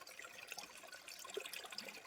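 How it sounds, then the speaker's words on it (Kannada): Spring water wells up from the ground and flows out over rocks at a natural shrine in Chikkamagaluru, a soft, steady trickle and gurgle heard faintly and alone. "ಕೇಳಿಸ್ತಾ ಇದೆಯಾ ಆ ನೀರಿನ ಸೌಂಡು?"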